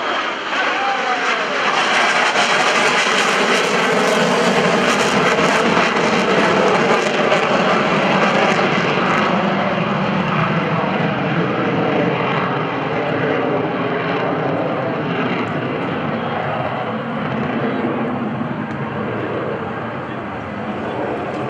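An F-4 Phantom jet flies past at the NAS Oceana airshow, a loud sustained roaring jet engine sound that slowly fades, with an announcer talking over it.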